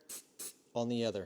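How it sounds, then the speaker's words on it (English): Two brief hissing sprays of CA glue activator from an aerosol nozzle in quick succession, followed by someone speaking. "we're going to spray this activator here in the center"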